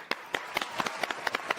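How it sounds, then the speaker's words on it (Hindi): A handful of people clap on a TV comedy set, about eight light, scattered claps over under two seconds with no voices. "तालियां।"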